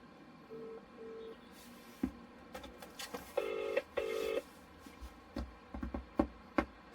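Telephone keypad dialing a call to the CAA, several short DTMF tones in quick pairs followed by faint clicks and brief line tones, quiet and close.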